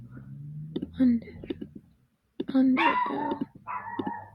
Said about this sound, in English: Sorry if you can hear my dog barking.